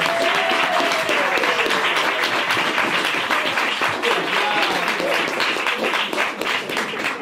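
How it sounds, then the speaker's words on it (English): An audience applauds after a short stage play at a live performance event, with steady, dense clapping and scattered cheers filling the room throughout, loud and sustained without letting up. "let's give them both a round of applause."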